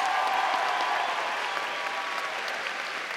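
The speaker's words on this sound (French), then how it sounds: "je vous demande vraiment de l'applaudir pour tout le boulot qu'il a fait" Dense, sustained applause from a convention audience at a cosplay contest honoring the lighting technician, an even wash of many hands clapping that holds steady for the whole stretch.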